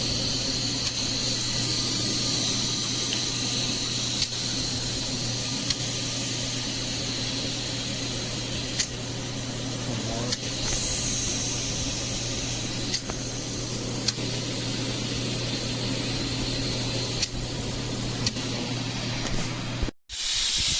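Compressed air hisses steadily and continuously into a motorcycle tire while its bead is being seated, a close, unbroken rushing noise that holds for the whole stretch.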